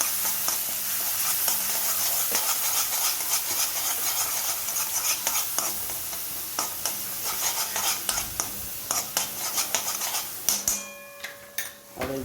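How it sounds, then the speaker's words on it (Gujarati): Spices and seasonings such as salt, turmeric and lemon juice being stirred together in a pan, steady clinking scrapes with a light sizzle underneath, the strokes thinning out into a few sharp taps near the end. "સરસ મસાલો આપણે મિક્સ કરી લઈએ"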